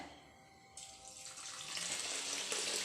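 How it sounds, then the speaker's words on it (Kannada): Water gushes steadily onto half a kilogram of basmati rice in a kitchen, starting faintly and then swelling into a loud, continuous splashing pour for a biryani, with no talking. "ನೀರು ಪಾಡ್ದು 15 ಮಿನಿಟ್ಸ್ ಸೋಕ್ ಮನ್ಪುಗ"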